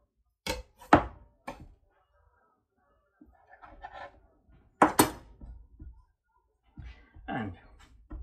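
A knife slicing sausage meat in two on a board in a home kitchen, a few sharp thunks and cuts spaced apart, close by, with a person talking in between.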